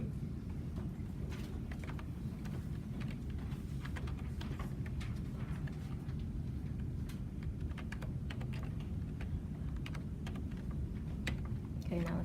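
Faint, irregular keystrokes come from a laptop keyboard as prices are typed into an Excel budget in a classroom, the soft clicking continuing throughout over a low room murmur.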